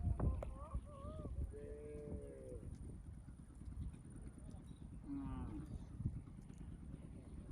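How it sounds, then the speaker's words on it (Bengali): White cattle crossing a sandbar in the Padma river country give a few loud, drawn-out moos, near and then farther off, over a steady outdoor rumble and wind. "ওই গরু পার হচ্ছে, আদার বাজারে সোজা পার হচ্ছে, সাদা গরু পার হচ্ছে"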